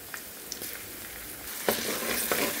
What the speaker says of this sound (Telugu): సో నేను కొద్దిసేపు ఆయిల్లో వేయించుతాను ఇలాగే.